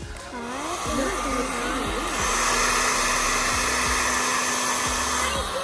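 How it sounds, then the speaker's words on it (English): A loud hair dryer blows steadily throughout, used to remove decals from a Jeep Rubicon, close and continuous, while a voice and other speech rise over the whooshing airflow. "You get a blow dryer"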